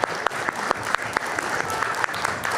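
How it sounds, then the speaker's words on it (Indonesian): An audience at a televised discussion breaks into applause, scattered clapping with a few sharp, distinct hand claps standing out over a softer patter of many hands. "Oke, boleh tepuk tangan silakan"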